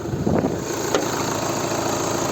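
A 2012 VW Golf 6 2.0 TDI diesel engine idles steadily with a low, even rumble, a brief click or tap rising briefly near the start.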